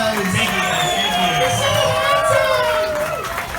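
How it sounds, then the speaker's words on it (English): Audience at a Gatorland Orlando alligator wrestling show cheering and whooping for the wrestler, a dense crowd roar with scattered shouts and chatter, sustained and fairly loud throughout. "And a big round of applause for alligator wrestler Peter out there for you guys."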